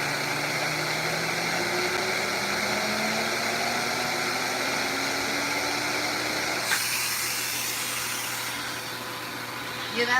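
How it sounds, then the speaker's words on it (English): A Tempos vacuum cleaner motor running alongside a Miele, its pitch gliding steadily upward as it speeds up, then shifting to a brighter rushing whine near the end; loud and continuous with no talk over it. "that speeding up sound you hear, that ain't the Miele. That's the Tempos motor."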